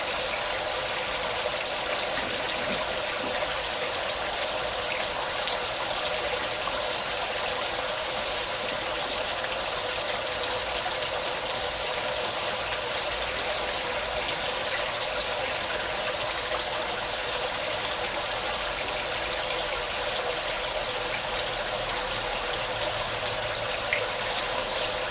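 Water drains steadily from an aquaponics grow bed, a continuous close hiss and gush of running water with a faint trickle, unbroken and with no voices for the whole stretch.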